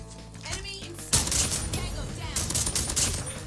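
Type 63 tactical rifle firing in Call of Duty Mobile: loud, close shots in a fast, steady rhythm following a brief mechanical lead-in, with a voice talking underneath.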